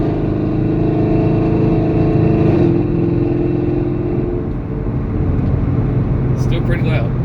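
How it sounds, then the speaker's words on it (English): 2019 Camaro SS with no catalytic converters and the stock active exhaust muffler at light throttle, a steady low rumble heard from inside the car, with people talking over it. "So that's with no cats to the stock active exhaust muffler. 2019 Camaro SS."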